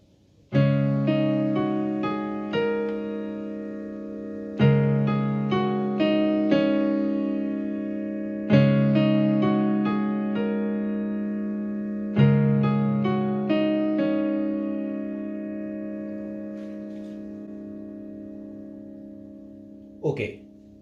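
A sustained piano chord struck several times, each ringing out and slowly decaying before the next strike.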